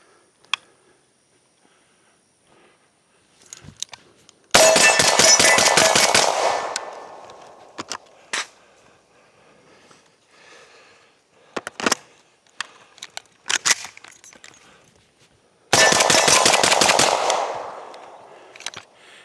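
A Vepr 12 short-barrel shotgun fires buckshot unsuppressed at a range: two loud, rapid mag-dump bursts of booming shots, separated by quieter handling clicks and clatter during a magazine change.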